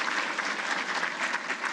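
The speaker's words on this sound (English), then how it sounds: "Give her a round of applause, please." An awards-ceremony audience applauds steadily, a dense, even wash of clapping hands that holds at a moderate level from start to finish with no talk over it.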